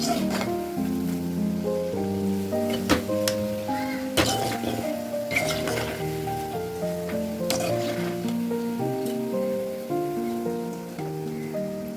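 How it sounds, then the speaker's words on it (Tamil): Steady sizzling and crackling of bread frying in hot oil, with occasional sharp pops, close by and continuous with no talking. "இந்த ப்ரெட் வந்து ஃப்ரை பண்ணுறதுக்காக வச்சுருக்கேன்"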